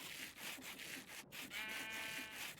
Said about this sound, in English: Fine, let's do some sanding.